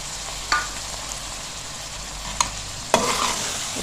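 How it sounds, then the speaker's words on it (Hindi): Keema with fresh green chilies and yogurt being stirred in a pan for reshami keema, a few distinct spoon scrapes standing out over a soft, steady background hiss. "अच्छे से हम इसको मिक्स करेंगे।"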